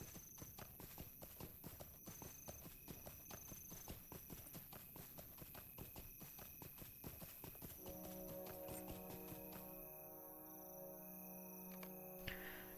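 Steady clip-clop of horse hooves at a walking pace in Lord of the Rings Online on a Rohan farm, rhythmic and moderately close, joined near the end by a sustained neigh and tonal game music.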